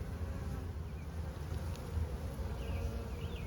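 A dense, steady hum of honeybees in an open hive during inspection, a constant close drone at even loudness with no talk.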